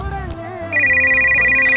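A telephone ringtone plays loud and close during an outgoing call. It starts with a short tonal phrase and then turns into a sustained electronic ringing tone.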